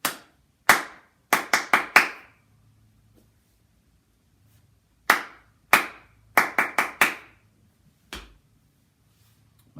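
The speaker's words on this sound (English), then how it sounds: "Now echo my claps." Crisp hand claps in 6/8 time, heard alone in two matching phrases of six sharp claps each, close and loud, separated by a pause, with one quieter clap near the end.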